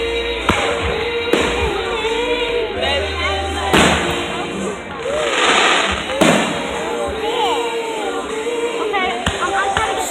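Loud fireworks burst overhead in sharp, gunshot-like bangs every second or two, with crackling tails and whistles between them. A crowd murmurs and people talk and exclaim throughout.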